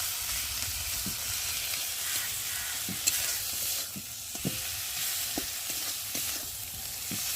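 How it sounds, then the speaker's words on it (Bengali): Tomato masala frying in fish oil sizzles steadily while a spoon stirs it, scraping the pan in short intermittent strokes close up; no talking. "চলো বন্ধুরা একটু কষিয়ে নিই।"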